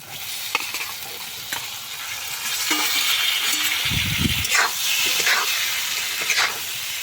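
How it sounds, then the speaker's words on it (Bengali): Pre-fried ash gourd and potato pieces sizzle in spiced masala in a pan. A steady hiss runs under stirring scrapes, with a brief low thump midway. "এরপর আমরা ভেজে রাখা চাল কুমড়ো ও আলু দিয়ে দেব।"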